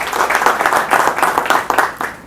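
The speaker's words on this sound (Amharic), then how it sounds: "ስለዚህ ለነሱ አንዴ ጭብጨባ ተሰጡ" An audience at a marriage and family talk on a stage breaks into applause, a burst of clapping that comes in uneven surges and carries on to the end.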